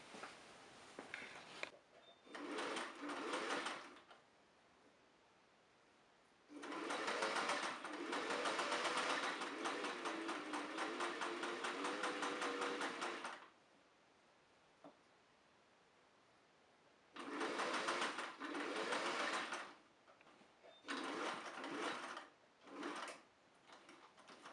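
A home sewing machine stitches a 1950s-style jersey wrap top in several bursts, its fast rhythmic whir lasting a few seconds each and separated by quiet pauses, close and clear.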